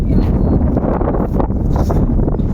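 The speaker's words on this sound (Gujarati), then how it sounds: "જોરદાર ફૂલ પવન આવે છે બરોબર છે, બહુ જ પવન આવે છે." Strong wind blowing outdoors, buffeting the microphone with a loud, continuous low roar and gusty rumble that never lets up.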